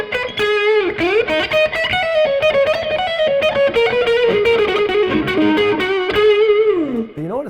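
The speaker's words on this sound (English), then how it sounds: "this guitar with distortion in a band volume isn't super great because it's a full hollow body" A heavily distorted full hollow-body electric guitar plays a sustained, singing lead line with thick overdrive, loud and continuous, with bends and a falling slide at the end.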